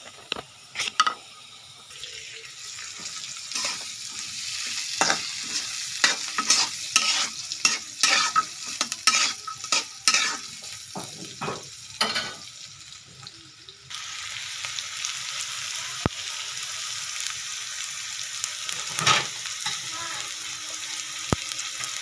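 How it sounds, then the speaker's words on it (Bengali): Fried potatoes and chopped onion are stirred in a hot pan, with clattering utensil scrapes over a loud sizzle, then a steadier hiss of frying once the stirring stops. "আলুগুলো ভেজে লাল লাল করে নিয়েছি। এখন আমি দিয়ে দিব পেঁয়াজ কুচি।"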